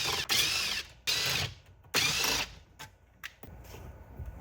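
Ratchet backing out 7mm screws from the radio bezel of a Ford Edge, several short bursts of close ratcheting clicks separated by pauses, fairly quiet.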